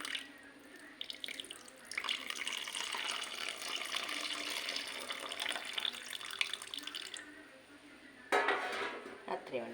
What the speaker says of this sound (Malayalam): ഇതിലേക്ക് ഈ വെള്ളം ഇങ്ങനെ മേലെ നിന്ന് ഇങ്ങനെ ഊറ്റിയിട്ട് ഈ വെള്ളം ഒഴിച്ചു കൊടുക്കും